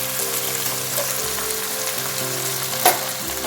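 Chopped kali bhaji greens fry in oil in a pan, giving a steady, close crackling sizzle throughout with one brief sharp click near the end.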